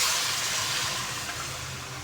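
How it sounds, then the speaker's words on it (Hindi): Water poured into a pan of spiced potato and cauliflower, a steady close hissing rush that fades a little toward the end, with no voices. "अब इसके अंदर मैं हल्का सा पानी डालूंगी,"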